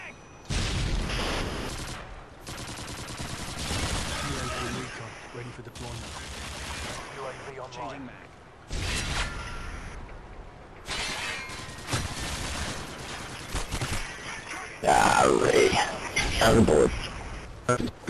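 Rapid bursts of gunfire in the Rust video game team deathmatch, crackling volleys and shattering impacts broken by short pauses, with a player talking excitedly over the shots.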